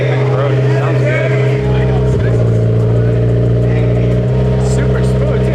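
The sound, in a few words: turbocharged Honda S2000 AP2 engine and exhaust running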